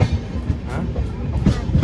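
A passenger train runs on rails with a continuous rumbling roar and rhythmic clattering of wheels over track joints, heard from inside a carriage at steady, fairly loud level with no speech.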